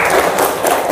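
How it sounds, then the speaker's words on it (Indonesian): In a classroom session, a group bursts into a brief, dense round of applause, loud and close, filling under a second. "Tepuk tangan dulu untuk kita semua."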